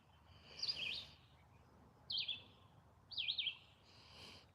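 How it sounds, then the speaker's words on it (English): Small birds singing outdoors on a morning in nature, three or four short warbling phrases spaced a second or so apart, moderately close over a soft background hush. "Birds are singing."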